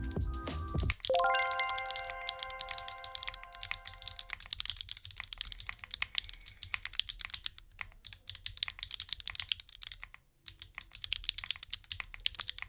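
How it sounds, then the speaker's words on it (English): Rapid, steady clicking of a computer keyboard being typed on, close and moderately loud, with a few chiming tones at the start that ring out before the keystrokes carry on alone. "It sounds like a keyboard."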